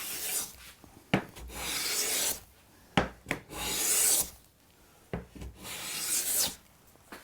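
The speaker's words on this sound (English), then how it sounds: "It does a really nice job on this curly walnut here." A round-sided Norris A5 smoothing plane with a very tight mouth shaves a curly walnut board in about four close, broad rasping strokes, each swish separated by short pauses, with no talking.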